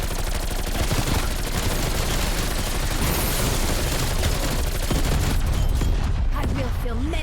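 Rapid, continuous SMG fire with a 170-round magazine in Call of Duty Cold War Zombies, a loud dense rattle with explosions mixed in and a voice speaking over the action.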